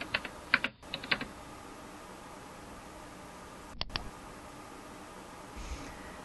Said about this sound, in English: I'll type in helmets and click enter.